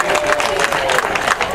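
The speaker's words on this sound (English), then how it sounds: "Let's give them a big round of applause." Audience applause for civil rights veterans at a mural dedication ceremony, a steady wash of clapping from a crowd, fairly loud and continuous throughout.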